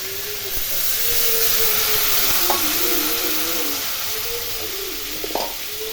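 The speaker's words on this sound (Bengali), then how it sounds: "সামান্য জল দিয়ে একটু কষিয়ে দেবো" Fish curry masala with ground coriander and chilli paste frying in a pan with a little water, a steady close hiss and sizzle throughout with a few faint stirring clinks, no voices.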